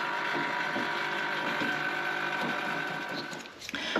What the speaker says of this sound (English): there's a quick blow off with the compressed air line